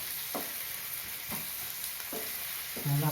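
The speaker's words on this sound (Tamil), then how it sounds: "தக்காளியும் நல்லா வதங்கட்டும்." Tomatoes for a dhaba-style egg masala curry sauté in a hot pan with a steady sizzle, while a spoon stirs through them four times in soft scraping strokes, no one speaking.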